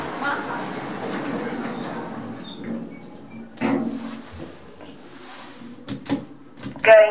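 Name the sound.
lift (elevator) doors closing in a shopping centre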